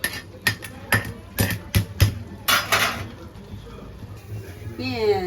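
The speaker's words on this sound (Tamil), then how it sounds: "நம்ம தோசைக்கல் போட்டுக்கலாம்." A metal dosa griddle is set onto the stove, giving a run of loud close clanks and bangs of cookware, followed by a quieter stretch with a voice at the end.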